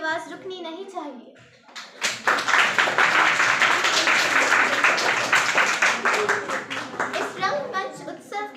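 Loud, sustained applause from a school audience after a class eight Independence Day stage performance, dense clapping filling several seconds after a voice and tapering toward the end.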